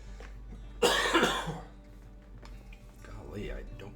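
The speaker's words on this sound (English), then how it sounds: "Golly, I don't mean to be coughing directly into your ears." One short, sharp cough breaks out close to the mic during a Wingspan board game session, followed by quieter talk.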